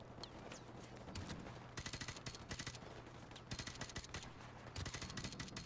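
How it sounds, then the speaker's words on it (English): Rapid automatic gunfire in the Modern Warfare Remastered campaign, dense bursts of crackling shots running almost continuously over a steady game soundscape, with no voices. "I'm getting shot from the side, too."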